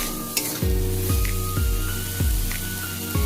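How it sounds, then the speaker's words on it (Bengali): Hot fried spice paste in a pan flares into a loud, steady sizzle as water goes in, with repeated scraping stirs giving a rhythmic pulse to the close, continuous frying hiss. "এবার আমি পরিমাণ মতো জল অ্যাড করে দেব।"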